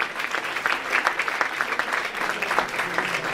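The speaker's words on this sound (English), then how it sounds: "let's have another round of applause for the lovely Dream Girls presenters" An audience at a student research day applauds the Dream Girls presenters, a steady wash of clapping from many hands lasting a few seconds at moderate loudness.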